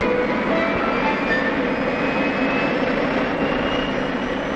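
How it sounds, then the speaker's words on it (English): Boeing 707 jet aircraft engine roaring loudly and continuously, a dense broadband rush with faint tonal whines drifting above it, steady throughout with no talking. "For all its power, it's the simplest aircraft engine ever devised."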